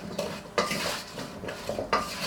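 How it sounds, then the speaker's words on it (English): A spoon stirs a paprika coating mix in a bowl, making a few scraping, clinking strokes in separated bursts, close and moderately loud with quiet gaps between them. "now that the spoon has magically appeared in my hand, we're gonna stir this up"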